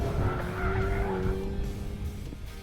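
Hyundai's first hot hatch, with a 6-speed manual, circling a racetrack with a steady engine drone and a long stretch of tire squeal and skidding, loud and close, with no talking.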